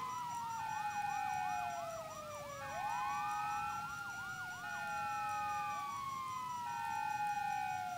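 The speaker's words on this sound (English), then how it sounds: "you hear that? Sirens!" Multiple police sirens in the video game Grand Theft Auto V, wailing and yelping in overlapping sweeps that cycle continuously, moderately close and with no voices over them.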